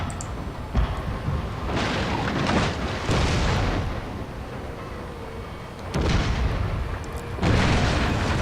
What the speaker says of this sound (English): Okay, let's fire a shot and then turn them.